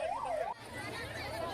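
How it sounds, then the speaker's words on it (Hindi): An ambulance siren at the scene of a temple stampede in Bihar, a wailing up-and-down tone heard clearly at first, then fading into crowd and street noise, with faint voices underneath. "मौके पर एम्बुलेंस पहुंची है"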